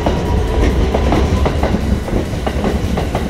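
A 2100-series two-door rapid limited express train runs past at a station, its wheels producing a loud, steady rumble with repeated clickety-clack beats over the rail joints, close by and with no voices.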